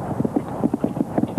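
Hooves of Gem Twist, a 17-year-old show jumping horse, clip-clopping in a quick steady rhythm across an arena, close and fairly loud, with no talk.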